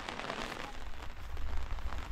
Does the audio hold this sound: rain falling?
yes